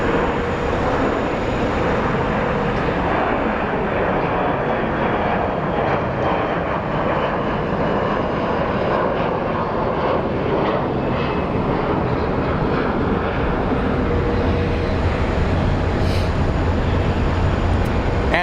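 American Airlines jets taxiing at Phoenix Sky Harbor International Airport give off a continuous, loud engine roar and whine, a steady broadband rumble that holds without a break, with no talk over it.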